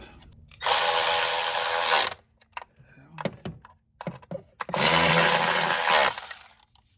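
A power tool tightens coil pack bolts on a Chrysler Town & Country in two loud, sustained whirring bursts, close by. Between them come clicks and knocks and brief speech.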